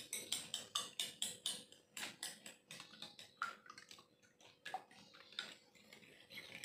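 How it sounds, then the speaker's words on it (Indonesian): Eggs beaten briskly in a bowl, a fast steady rhythm of close, bright clinks and splashy strokes, pausing briefly and then resuming, with no talk. "Kemudian kita kocok lepas ya."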